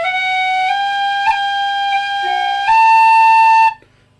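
A tin whistle plays the opening measure of the Irish tune The Dunmore Lasses, ornamented with two long rolls: a bright, close, solo run of clear notes that ends in one loud sustained high note before stopping.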